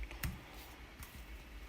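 Soft typing on a computer keyboard, with a few quiet, scattered key clicks in a near-silent room and no one talking.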